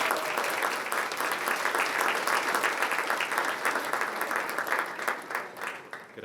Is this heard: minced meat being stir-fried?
no